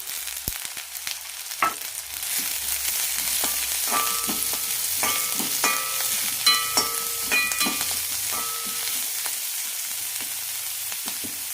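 Chopped garlic, onion and curry leaves sauté in hot oil, a continuous close sizzle with light crackles and occasional stirring scrapes throughout.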